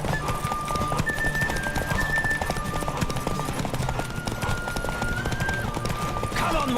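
Horse hoofbeats in The Witcher 3 game pound in a steady clip-clop gallop under a busy game mix with music and tonal effects, loud and continuous throughout.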